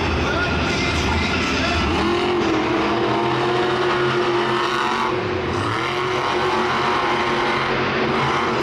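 A monster truck engine at full throttle during a Monster Jam arena event in Arlington, Texas, roars loudly and continuously with rising and falling pitch sweeps, and a commentator talks over it.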